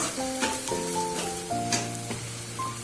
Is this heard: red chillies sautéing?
yes